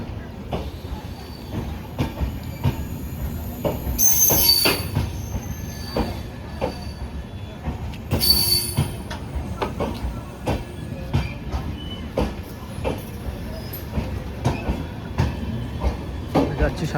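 Indian Railways train 12325 Gurumukhi Express running on rails, a sustained rumble with repeated rhythmic wheel clacks and two brief high metallic squeals, heard close and steady throughout.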